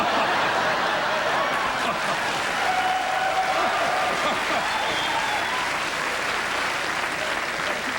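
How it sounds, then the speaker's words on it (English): Warm, sustained studio audience applause on a late-night talk show, a thick steady wall of clapping with a few scattered laughs and voices mixed in. "Thank you for that applause"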